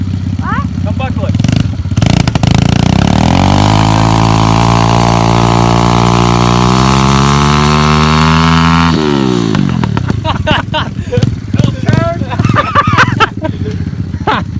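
A dirt bike engine roars loud and close, its pitch climbing in a long rising rev before cutting off abruptly, followed by choppier engine sputter with people talking over it.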